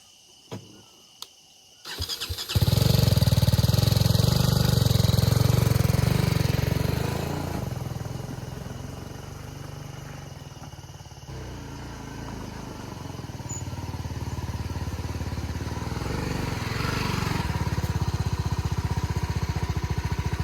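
A big motorcycle starts after a few clicks, then its engine runs loud and steady while being ridden away and brought back, the note rising and falling slightly with throttle.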